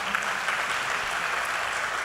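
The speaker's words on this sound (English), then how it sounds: "I think he deserves a round of applause for that." A crowd at an Indian Arrival Day celebration applauds, a steady, moderately loud patter of many hands clapping with no break for the full length.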